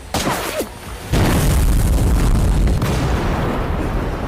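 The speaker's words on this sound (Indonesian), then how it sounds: "rupanya Kali muncul dari balik kobaran api bekas ledakan" A heavy film explosion erupts with a deep booming roar, then a sustained rumbling blast and crackle of fire that fills the scene loudly and slowly fades, preceded by a brief tense whoosh.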